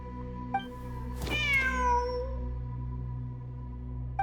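A cat in the video game Genshin Impact gives a single drawn-out meow, clear and moderately close over a steady ambient game hum with soft chimes.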